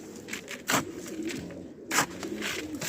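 Soft cooing of pigeons nearby, a few low calls with light rustling and fluttering around them.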